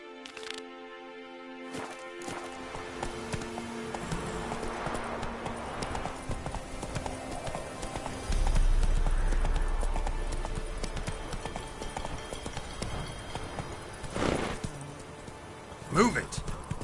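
Roach the horse galloping in The Witcher 3, rapid rhythmic hoofbeats with game music and effects behind, a brief whinny-like burst late on, and a voice calling out over the run.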